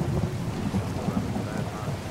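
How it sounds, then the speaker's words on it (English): Heavy rain and rolling thunder fill a stormy Skyrim Special Edition scene, weather modded to sound louder, with a deep continuous rumble beneath a broad hiss of rainfall, loud and sustained with no talk. "It is raining after all."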